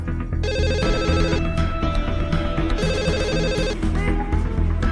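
A telephone rings in repeated bursts, a bright electronic trill with short gaps between rings, loud and close. A low musical score plays underneath.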